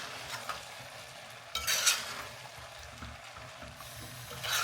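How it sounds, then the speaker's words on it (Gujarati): Sabudana khichdi is stirred in a pan, with faint scraping strokes and a soft sizzle, plus a few louder scrapes. "ખીચડીને સરસ રીતે મિક્સ કરી દઈએ."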